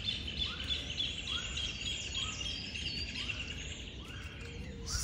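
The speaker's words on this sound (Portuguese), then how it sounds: "Esses passarinhos têm gogó de ouro, hein?" Songbirds chirping outdoors, a run of quick, bright repeated calls and short sweeping notes over a soft background hiss, moderately distant and without speech.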